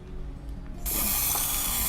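Cooking spray hisses onto a pan for mini frittatas, starting abruptly partway through as a loud, continuous close spray.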